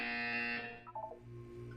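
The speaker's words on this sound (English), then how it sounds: "You will hear a buzzer." A buzzer in the Portal video game sounds as a loud, steady electronic tone for about half a second. A brief chime-like blip and a lower hum follow.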